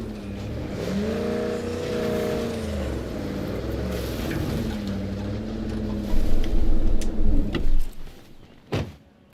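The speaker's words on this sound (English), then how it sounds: "The zombies are attracted to the noise of the car" A car engine in State of Decay 2 hums and shifts pitch as the car is driven carefully, not floored, through a zombie-filled world, with revving tones first, then several sharp clunks and thumps near the end.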